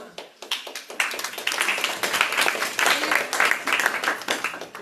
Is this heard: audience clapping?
yes